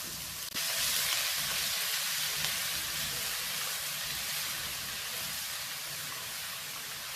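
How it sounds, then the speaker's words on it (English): Garlic and ginger paste frying in a pan over low heat, a steady, close, broadband sizzle with no pause, holding throughout with a faint tap near the start. "And you'll cook that until it's a nice golden brown, the ginger and garlic paste."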